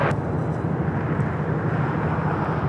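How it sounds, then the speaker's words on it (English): An Avianca A320 airliner in a special livery arrives at Los Angeles International Airport. Its jet engines give a steady broadband roar, moderately loud and continuous, with no talk. "we'll be starting the morning with a Super, also a special livery, Surf City Avianca A320"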